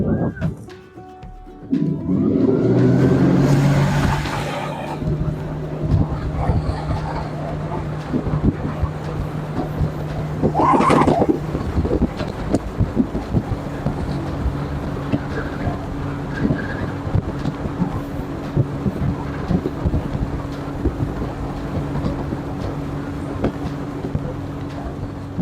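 A Flux Marine 100 hp electric outboard on a Scout 215 Dorado boat accelerates at sea, its steady electric whine rising above a rush of wind and water, with a brief sharp tonal sweep midway.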